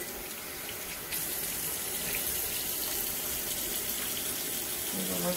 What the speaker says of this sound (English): I'm gonna rinse it off before we crank it.